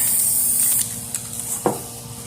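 A spray paint can releases a light coat of paint in a sharp, close hiss lasting under a second, followed by faint handling noises.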